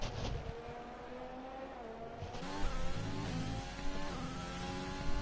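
A McLaren race car engine in a racing video game drones steadily through a flying lap, its pitch rising and falling in smooth upshifts and revs, heard alone at moderate volume.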